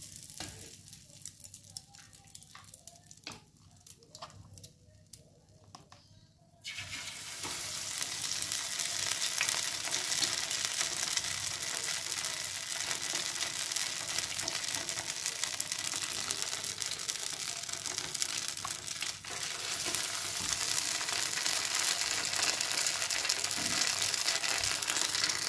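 Oil crackles quietly at first, then erupts into a loud, continuous sizzle as egg-coated chicken sempol skewers hit the hot oil and keep frying steadily.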